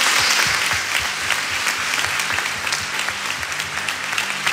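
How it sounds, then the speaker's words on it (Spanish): A church congregation gathered for a pastoral ordination service in Asunción claps in sustained, dense applause that stays steady and fairly loud throughout, with no voices standing out. "Un aplauso le damos a Daniela."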